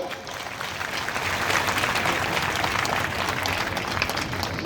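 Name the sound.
audience applause welcoming a chief minister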